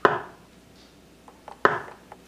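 A kitchen knife slices through a block of firm tofu in two sharp, close cuts about a second and a half apart, each a crisp thud on the board, with faint small knocks between them.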